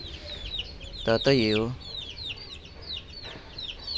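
A fighting rooster, a street cock, gives one loud, drawn-out crow near the middle of the clip, with faint bird chirps around it and someone speaking briefly.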